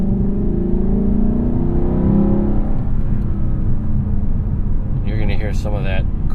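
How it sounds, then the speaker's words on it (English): Lexus LC 500 V8 in sport mode giving a deep, throaty induction roar that rises as the car accelerates, then settles into a steady rumble, heard up close from inside the cabin with someone talking over it near the end. "You're gonna hear some of that crazy V8 induction noise"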